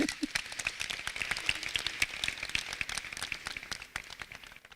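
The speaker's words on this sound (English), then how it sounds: "Clap to that." Audience clapping at a panel talk: a soft, distant patter of many hands that goes on for several seconds and slowly thins out.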